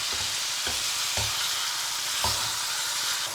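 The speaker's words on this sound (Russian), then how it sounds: "Пока у нас мясо обжаривается" Pork sizzles and fries steadily in a pan, a dense close hiss with a few soft knocks from stirring, no voices.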